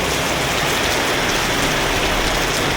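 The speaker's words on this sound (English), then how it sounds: "the rain hit hard, fast" Heavy rain pours down in a steady, dense roar during a roadside stop on an Indonesian road trip, with no voices, loud and close throughout.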